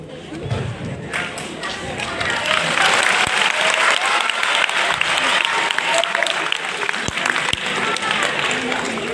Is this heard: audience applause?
yes